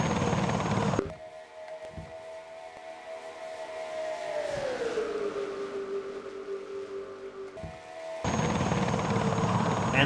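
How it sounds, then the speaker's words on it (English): Helicopter camera view over a NASCAR-style oval race at Talladega in a racing video game, a steady rotor drone with a slowly bending engine tone, loud and continuous for most of the stretch, bracketed by louder crowd and engine noise. "look at this copter cam right there"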